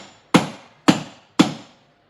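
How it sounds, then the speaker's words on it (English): A small hammer taps a roller skate bearing into its wheel, three sharp, evenly spaced knocks about half a second apart, each with a short ringing decay, close and loud with no talking. "we can get ourselves a little hammer"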